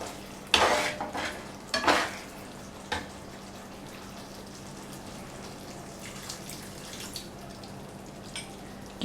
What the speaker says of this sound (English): you have to add the corn flour with water mixture like gradually into the gravy